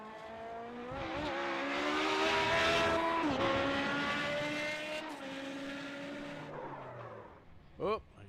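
A Kamel GT EVO race car in iRacing at Imola, on cold tires and a cold track, howls through the gears with a rising, shifting engine note. Late in the run comes a sharp, brief tire squeal.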